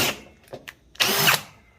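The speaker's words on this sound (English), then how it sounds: "drill it out" A power drill drills out a link of a handmade chain in short, loud, close bursts: two quick brief whirs, then a longer grinding run lasting about half a second.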